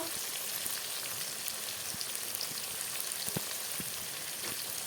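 Katla fish pieces fry in oil in a pan, giving a steady, fairly quiet crackling sizzle with scattered sharper pops throughout.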